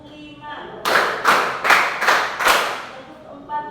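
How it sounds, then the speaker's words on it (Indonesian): Five distinct hand claps in a counting and clapping game led by a teacher, evenly spaced about half a second apart, loud and close, with quiet room sound before and after. "tepuk lima"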